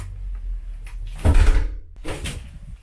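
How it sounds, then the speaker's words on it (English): An indoor door swings shut with a thump and bump around the middle, then opens again with a softer clatter a moment later, fairly close and with no talk over it. "I'm gonna close the door and then when I open it"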